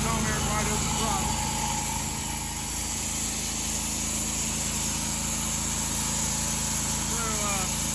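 The engine of a homemade sawmill runs steadily nearby, a loud, constant droning hum with a faint whine that holds throughout without pause.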